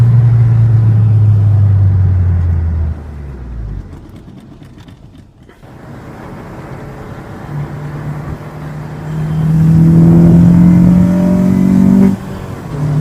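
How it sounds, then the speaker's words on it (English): The naturally aspirated K20Z3 engine of an eighth-generation Honda Civic Si with a six-speed manual rises in pitch, drops back to a lower drone, then climbs again in a second rev, loud and close with no talking. "It's naturally aspirated, high revving engine, K20 Z3."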